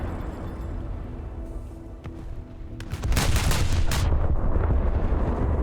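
Naval gunfire from the warship SMS Nassau in War Thunder, with booming cannon salvos rolling in after a quieter stretch and continuing as a loud, sustained barrage.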